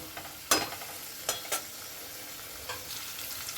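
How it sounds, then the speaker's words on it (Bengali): Potatoes frying in hot oil give a steady close sizzle, broken by a few sharp scraping and stirring knocks, with no talking. "গরম হয়ে গেছে আলুগুলো ভেজে নেব"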